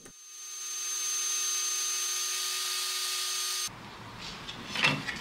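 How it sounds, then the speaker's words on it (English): Power sander running 80-grit sandpaper over wood from an old DVD cabinet, a loud steady whine that holds for several seconds and then cuts out, leaving faint scraping and handling noise. "I've gone for 80 grit sandpaper and it's doing the job pretty nicely"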